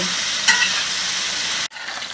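Pork sizzles steadily on a saj heated by a wood fire, a loud continuous frying hiss with a brief scrape as the meat is turned, then a sudden short drop before the sizzle resumes.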